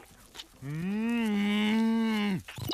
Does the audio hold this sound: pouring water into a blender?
no